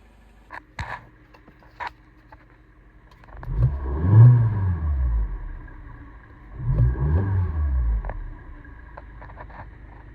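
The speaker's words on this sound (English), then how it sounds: "this car has the free intake noise thing that I did, where it just removes the intake muffler, so it's more induction noise" A MINI Cooper with the N12/N16 engine and its intake muffler removed gives two loud swells of induction roar as it accelerates, each lasting a few seconds, with lower engine drone between them and a few faint clicks beforehand.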